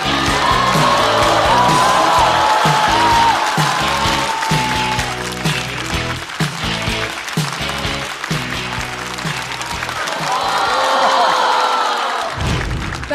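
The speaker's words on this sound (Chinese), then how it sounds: "让我们掌声欢迎王大刀" Studio audience at a Chinese stand-up comedy show bursts into loud, sustained applause with cheers and whoops, steady and dense throughout, with crowd noise swelling again near the end.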